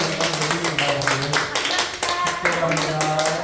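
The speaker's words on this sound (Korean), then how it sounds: "다시 한번 하나님께 박수를" Congregation clapping in a church during a Sunday service, a dense run of hand claps sustained throughout, with voices mixed in.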